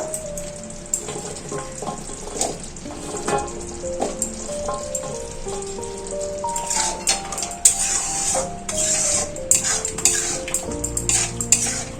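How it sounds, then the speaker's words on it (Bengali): Shukto masala fries in a pan before drumsticks are tipped in, a loud steady sizzle with spoon scrapes and clanks of utensils against the pot, bursts of hissing growing sharper near the end. "মশলা কষানো হয়ে গেছে এর মধ্যে আমি ডাটাগুলো দিয়ে দেবো"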